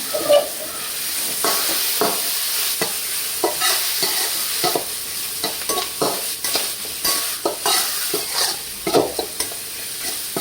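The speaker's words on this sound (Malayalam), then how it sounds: "ഉപ്പിട്ട് ഈ കുറച്ച് മഞ്ഞൾപ്പൊടി ഇളക്കി കൊടുക്കാം" A spoon keeps stirring frying masala in a pan as salt and turmeric powder go in, giving a steady close sizzle broken by scraping strokes, with no voices.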